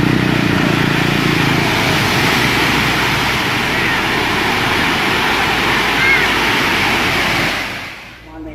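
Powerful ocean waves surge over a seawall on the Pacifica coast of California, a loud, continuous roaring wash of surf that rumbles steadily before fading away at the end.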